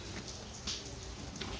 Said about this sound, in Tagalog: Umuulan pa naman.